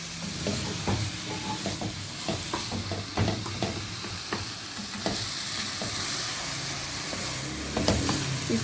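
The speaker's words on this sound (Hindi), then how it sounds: "इसको बस इतनी देर भूनना है कि इसका घी निकल जाए" Grated carrot halwa sizzles and fries in ghee with khoya while a spoon scrapes and stirs the pan repeatedly, a steady close hiss with irregular scraping strokes throughout.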